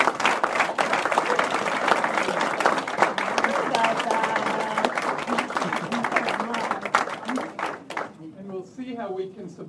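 Sustained audience applause at a talk on religion and ecology, a dense crowd of clapping hands that runs loud and continuous for several seconds before tapering off as a voice begins speaking.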